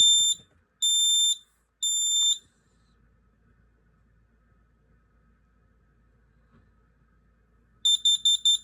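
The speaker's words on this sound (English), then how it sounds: "And it's a carbon monoxide alarm too." A combination smoke and carbon monoxide alarm sounds its test: three loud, high electronic beeps in a steady rhythm, a long quiet pause with faint room noise, then a rapid burst of four more beeps close by.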